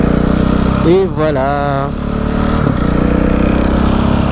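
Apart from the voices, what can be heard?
KTM 690 SMCR motorcycle engine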